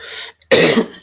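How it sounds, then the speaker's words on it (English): A single dry, harsh cough, then a short pause and a second louder, raspy cough burst, close up with no talking. "Excuse me, I have this bad cough."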